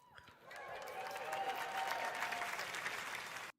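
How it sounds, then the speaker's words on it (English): A crowd at a Pixel 8a phone demo breaks into applause that swells after a brief lead-in, holds dense and steady, then cuts off abruptly, with faint voices mixed in. "I don't know why they clapping."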